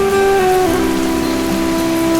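Rain falls in a steady, dense patter, loud and close throughout, with a sustained tonal hum underneath and no voices.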